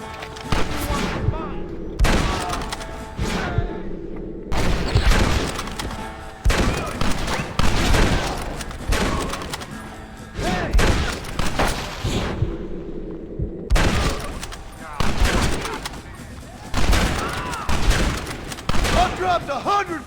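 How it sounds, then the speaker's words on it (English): Heavy gunfire in a Red Dead Redemption firefight at a gate: loud, dense volleys of shots and booms arrive in repeated bursts with brief lulls between them, and voices shout over the battle. "You and I'll provide the cover fire"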